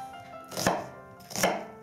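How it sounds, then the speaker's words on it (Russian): Two crisp knife chops cutting an onion into cubes strike a cutting board, spaced under a second apart, close and clear with no talking. "нарезаем наш лук. Нарезаем его на кубиками"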